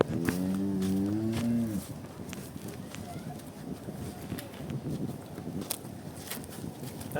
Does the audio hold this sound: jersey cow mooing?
yes